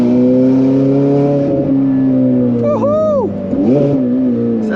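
A Ferrari V8 engine revs loudly up close, its strong, steady drone rising and falling through quick throttle blips, with a short gap and a sharp swell near the end.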